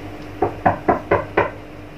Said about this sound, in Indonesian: Oh, ada orang mengetuk pintu adik-adik ya.